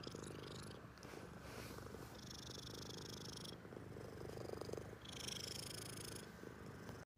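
A cat purrs steadily and close up, a continuous low rumbling drone that runs without a break for about seven seconds before cutting off abruptly.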